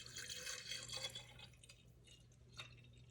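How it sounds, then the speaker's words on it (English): Mugwort tincture is poured back into a glass jar, a soft, steady trickle of liquid close by that fades out over a few seconds, with no talking. "Now I can just pour it right back in."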